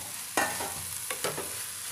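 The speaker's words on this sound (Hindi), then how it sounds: "इसको अच्छे से मिक्स कर लेंगे और थोड़ा सा पका लेते हैं सब्जियों के साथ।" Paneer and mixed vegetables being stirred in a frying pan for a bread-and-bhaji breakfast, with two scraping strokes of the spoon over a low steady sizzle.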